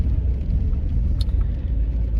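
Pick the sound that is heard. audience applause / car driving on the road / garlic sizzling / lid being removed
car driving on the road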